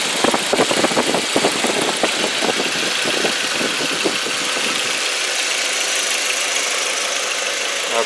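A 2002 Volkswagen Passat engine idles steadily and close by, a smooth continuous running drone with some ticking pulses early that settle into an even hum, no voices over it.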